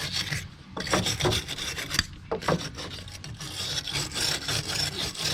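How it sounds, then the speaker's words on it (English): A stiff brush scrubs rust and loose debris off a crusty Toyota Sienna intermediate steering shaft, giving repeated raspy back-and-forth strokes up close, steady and fairly loud with brief pauses. "I'm just going to take the brush first and clean it up."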